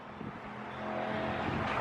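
A drag racing car accelerates from a distance, its engine note rising into a sustained, growing roar with a faint steady hum underneath.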